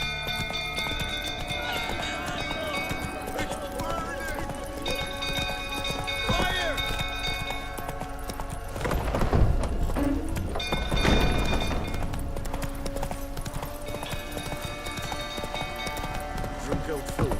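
Roach the horse gallops in The Witcher 3: Wild Hunt, a steady clip-clop of hooves running under sustained game music, with a couple of heavier thuds midway.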